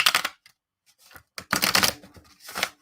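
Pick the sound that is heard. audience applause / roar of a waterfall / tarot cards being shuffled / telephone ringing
tarot cards being shuffled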